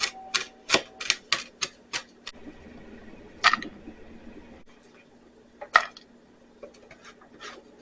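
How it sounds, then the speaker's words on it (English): A knife chops vegetables on a cutting board while preparing Thanksgiving dinner: a quick run of sharp, close taps, then scattered single knocks as the mincing slows. "once I got it cut up, I go back over it and I basically mince it up real small"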